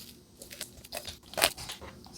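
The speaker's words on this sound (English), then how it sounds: "I'm going to cut off the backbone first, like so" Kitchen scissors crunch through a raw chicken's backbone for competition barbecue, giving a few crisp snapping cuts with one loud crack near the end, close up and without talk.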